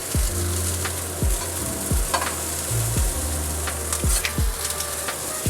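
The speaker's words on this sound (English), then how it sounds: "Grab your raw tongs and let's flip the steaks. While the steaks are cooking," Filet mignon steaks fry in a hot pan with a constant loud sizzle, punctuated by a series of sharp low knocks and scrapes from utensils against the pan; no voice.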